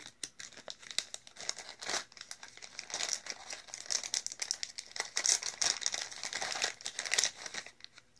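Crinkly plastic toy packaging is cut and torn open up close in irregular crackling bursts of crumpling and ripping, growing louder toward the end, with no talk.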